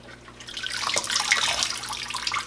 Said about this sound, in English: in this clean cold water, I got all my pods ready to go. And I'm just moving them around, getting them clean.